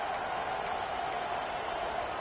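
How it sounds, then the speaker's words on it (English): A stadium crowd at a college football game in the video game NCAA 26 gives a steady, dense roar with faint whistles and whoops rising from it. "This crowd knows when to bring it."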